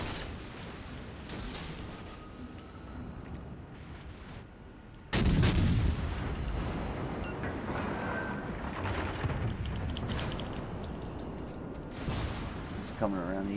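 Secondary guns fire from a dreadnought-style warship in a naval battle game, a heavy booming salvo landing around five seconds in, followed by ongoing cannon thuds and rumble, with a voice talking over it.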